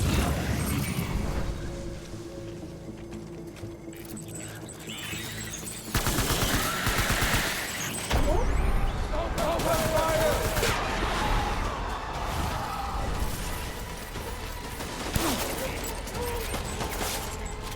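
Rapid gunfire crackles almost continuously through a firefight in the video game Death Stranding, dense bursts of shots under and between a player's excited talk.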